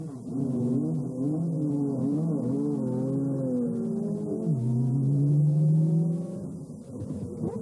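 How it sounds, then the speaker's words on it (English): Racing cars pull out of the pits at Dijon for timed laps before a race, their engines droning and revving steadily with shifting pitch, one car rising louder and closer near the end. "cars leave the pits to complete timed laps"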